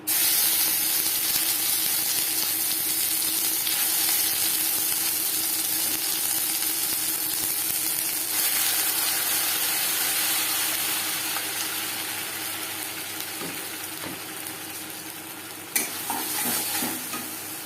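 Kakrol stuffing frying in mustard oil in a pan, a steady dense sizzle with hissing steam, stirred throughout with occasional scrapes and clinks near the end, heard alone without talk.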